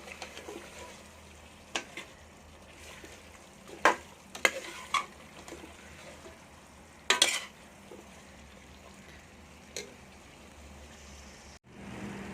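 Chicken feet fry in a spice masala, giving a soft, steady sizzle broken by several sharp scrapes and clatters as a utensil stirs them in the pan, fairly quiet and with no speech.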